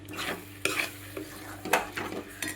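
A garlic and red chilli chutney sizzles in a pan, broken up by several sharp scraping strokes of a spoon stirring against the metal, close and fairly loud with no voices.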